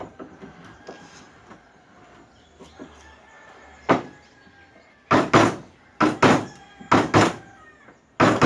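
Bevel chisel chopping and levering waste wood out of a cross lap joint, heard as a run of sharp, close thunks that grow louder and more spaced toward the end after quieter scraping taps.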